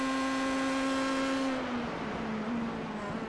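Open-wheel race car on the long start-finish straight at Long Beach, engine screaming at high revs up to about 140 mph, a loud sustained whine that shifts pitch as the car passes close by.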